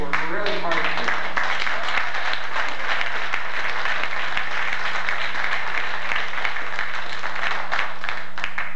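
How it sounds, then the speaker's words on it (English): An audience applauds a band at a music school show, dense sustained clapping that holds loud and steady throughout, with a voice briefly audible at the start. "give them a big round of applause"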